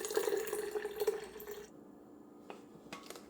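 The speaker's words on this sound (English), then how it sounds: "we're ready to pour it into our SCOBY Hotel" Cooled sweet tea pours into a kombucha SCOBY hotel jar as a soft, steady stream of liquid for about a second and a half, then trails off into a few faint drips and splashes.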